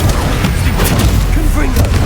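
Fire-spell explosions from the Confringo curse in Hogwarts Legacy thump loudly and continuously over a dense, rumbling game mix, with a voice talking faintly beneath.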